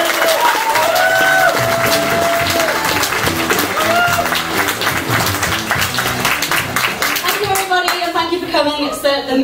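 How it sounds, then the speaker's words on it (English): Crowd at a Bright Club comedy night in Newcastle bursts into loud, sustained clapping with cheers and whoops, dense and close, with a few voices calling out over it. "massive cheer round your applause!"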